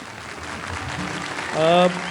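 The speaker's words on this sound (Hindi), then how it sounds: "बहुत सारी तालियां।" Audience applause at a film festival award ceremony, a steady wash of clapping that swells briefly near the end while a voice rises over it.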